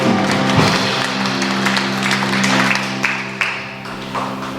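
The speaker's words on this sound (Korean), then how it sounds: "영광의 박수 드립니다." Congregational clapping during a Korean Sunday afternoon church service, heard as a wash of hand claps over a steady sustained musical hum, thinning out toward the end.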